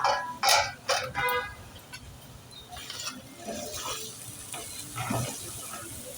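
Chili and coriander powder mixed for chicken kofta curry, stirred in a bowl or pan with a run of scraping, clinking strokes, loud and close at first, then softer wet stirring and light sizzling.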